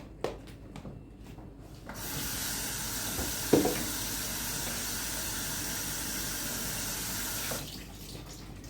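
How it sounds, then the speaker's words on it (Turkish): Tap water runs steadily into a kitchen sink while chopped leeks are rinsed, a continuous hiss with a brief splash and rubbing in the middle, starting after a few light knocks and stopping near the end, no talk. "Buna ben hemen bir su tekrar geçireceğim"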